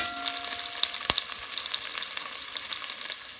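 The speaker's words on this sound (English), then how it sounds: "It's frying, so let's take it to fry a little more" Corned beef and potatoes frying in a pot give a steady, close crackling sizzle with scattered sharp pops and a clink of a utensil.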